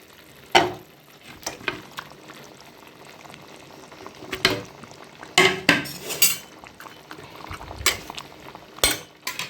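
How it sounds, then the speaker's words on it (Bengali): Fried pomfret pieces go into a boiling fish curry. Uneven thuds and utensil clatters land over a bubbling simmer, a few loud close knocks among quieter scrapes, with no voices. "এবারে এতে আমি ভেজে রাখা মাছগুলো দিয়ে দিচ্ছি"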